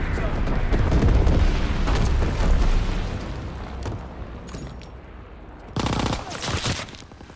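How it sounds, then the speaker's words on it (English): Mortar explosions and heavy battlefield fire in the World War II shooter Call of Duty: WWII, loud rumbling blasts dominating the first seconds, easing off, then a second sharp burst of bangs near the end. "Enemy mortar fire incoming."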